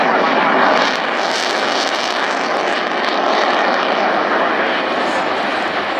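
A military jet flies at a high angle of attack at RAF Cosford Airshow 2018, its broad engine roar loud and sustained throughout with a slight surge near the start.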